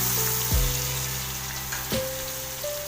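Onions are added to a hot pan for a sprouted moong curry and stirred, making a steady, loud, close sizzle throughout, with a couple of brief scraping bumps from the stirring.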